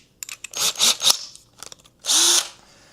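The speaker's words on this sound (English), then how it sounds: "get a nice intimate shot of me drilling a hole in this box" A power drill boring a 3/16 hole in a box whirs in several short, close bursts, the motor revving up and stopping with brief pauses, ending in a longer, louder run that winds down.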